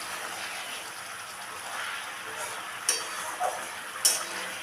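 Fish sizzling in a pan as radhuni paste is stirred in, a steady hiss of frying with a few light scraping ticks of the utensil against the pan, close and moderately loud.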